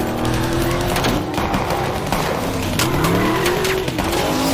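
A film car chase in which cars pursue a fleeing couple: loud, continuous tire squeals and screeching skids over roaring engines, with sharp bursts and scrapes throughout and no talk.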